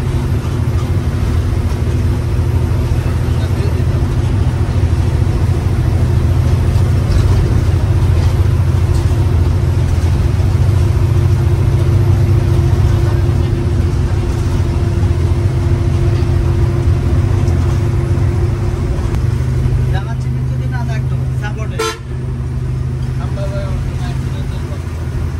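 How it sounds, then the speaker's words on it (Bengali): A Mercedes-Benz intercity coach on the Barisal to Dhaka route runs with a loud, steady low engine drone throughout, with a brief sharp knock near the end and the hum easing slightly afterward. "চলুন এখন আমাদের মার্সিডিজ বেঞ্চের যে ইঞ্জিন সাউন্ড, ওই ইঞ্জিন সাউন্ডটি শুনে নেওয়া যাক"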